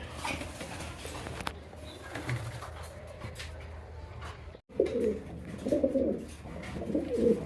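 Baghdadi Huma pigeons coo in low throaty bursts up close, faint at first, then louder rolling calls in the later seconds, with no speech.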